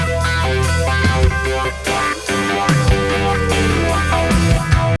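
An electric guitar runs through an RV3 delay and a Phase 90 phaser in a rock tone. It plays dense, loud, continuous sustained chords with swirling repeats throughout.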